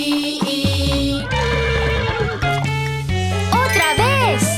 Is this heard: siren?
no